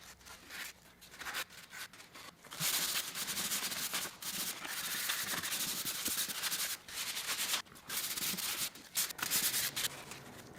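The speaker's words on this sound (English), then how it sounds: "Then you want to sand that down with some 150 grit sheet sandpaper." A 150 grit sheet of sandpaper rubs a repaired baseboard in steady back-and-forth strokes, giving a continuous close, dry scratching with brief pauses between passes.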